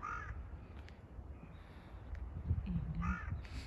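Crows caw outdoors in cold weather near an old house, a few harsh calls at the start, then a louder cluster of caws toward the end over a quiet background.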